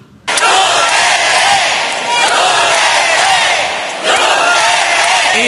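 A large crowd of attendees at a Maisog political rally roars and cheers loudly and continuously, with one brief dip in the middle.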